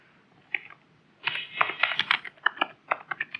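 Rapid irregular clicks of a computer keyboard while code for an Android Retrofit setup is typed, close and fairly loud, starting with a couple of isolated taps before a dense burst of keystrokes.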